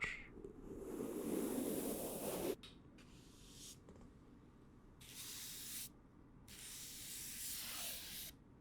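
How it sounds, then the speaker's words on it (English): A very soft brush sweeping across a microphone from one side to the other, close, hushed swishing strokes in several separate passes with quiet gaps between, no talk. "Some ear to ear brushing as well. Very soft brush."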